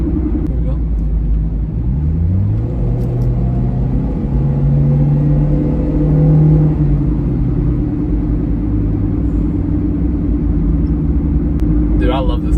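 A hybrid car's engine hums and rises in a steady revving drone, close and continuous, with a voice talking over it.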